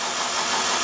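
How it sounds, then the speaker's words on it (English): A Mazda RX-5 turbo engine cranks over fast on the starter, a steady, loud, dense mechanical whirring that holds constant throughout with no voices. "So we give it a crank and it should turn over quite fast."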